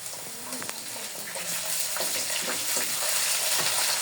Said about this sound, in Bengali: আদা রসুনটা আমি ভালো করে ভেজে নিব